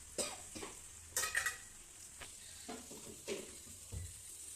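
Onion curry with chili powder added is stirred in a hot pan, a soft sizzle under several distinct scraping strokes and light metallic clinks of a spoon, close and moderately quiet.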